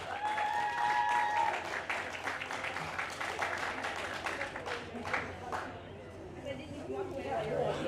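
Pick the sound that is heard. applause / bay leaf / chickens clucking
applause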